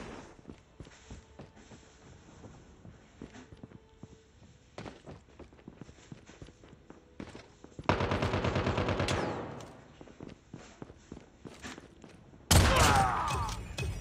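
A light machine gun fires in a video game: scattered single shots and thuds, then a dense sustained burst of rapid automatic fire lasting over a second, and a sharp final loud blast near the end, with no talking.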